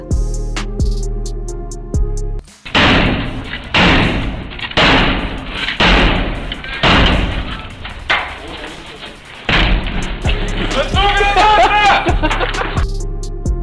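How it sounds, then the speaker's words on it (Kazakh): Soldiers in a door-breaching drill batter a door with a sledgehammer before one kicks it in: a run of loud, heavy thuds and crashing slams over steady background music. "Мына әскер есікті балғамен сындырып жатқанда, екіншісі аяғымен келіп сындырып тастады."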